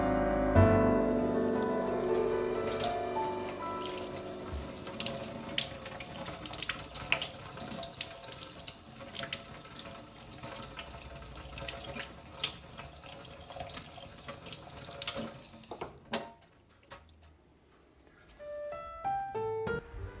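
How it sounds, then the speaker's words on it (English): Tap water runs steadily over the tip of a cone-shaped ice cream mold at a sink, a continuous splashing stream with scattered drips, which stops near the end, leaving a few clinks and drips. "put the cone tip under running water for a few seconds"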